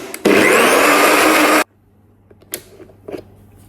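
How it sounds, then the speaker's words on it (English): A NutriBullet blender whirs loudly at close range for about a second and a half, then cuts off abruptly, leaving faint handling clatter and quiet room noise. "Just got my NutriBullet here. Mix all that up."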